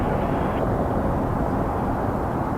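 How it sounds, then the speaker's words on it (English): Steady broadband roar of a Boeing 787 Dreamliner taxiing off the runway at Toronto Pearson airport, a constant distant jet rumble with no distinct events. "See the Phoenix Dreamliner turning off"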